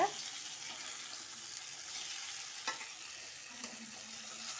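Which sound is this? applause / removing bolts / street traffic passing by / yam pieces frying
yam pieces frying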